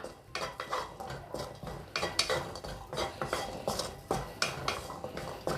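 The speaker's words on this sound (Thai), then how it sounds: "คั่วไปเรื่อยๆนะคะ ให้มันมีความไม่เกรียมนะคะ ให้ส่งกลิ่นหอมเลย" Garlic, shallots and red chilies dry-roast in a pan while a spatula stirs and scrapes them, making a rhythmic run of close metallic clinks and scrapes.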